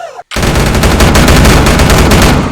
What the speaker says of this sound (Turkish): Baya da ses çıkarıyor yani. Fena şey. Minigun gördüğünüz gibi.